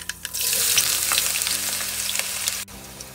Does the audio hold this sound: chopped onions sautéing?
yes